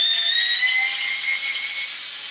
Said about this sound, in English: Okay, let's make this drill stronger.